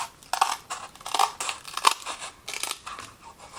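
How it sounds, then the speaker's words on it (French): Scissors snipping through thin craft cardboard during bookbinding, a series of crisp crunching cuts in irregular bursts, close and fairly quiet, with no talking. "on peut aussi utiliser les ciseaux pour découper dans le carton si on n'a pas de couteau"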